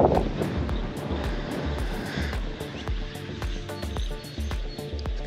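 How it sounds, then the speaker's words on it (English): Gusty wind buffeting the microphone outdoors, a low rumbling roar with scattered knocks and clicks, no voices. "Kind of windy out here, y'all."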